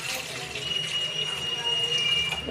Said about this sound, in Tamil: தேவையான அளவு தண்ணியை ஊற்றிக்கிடலாம்.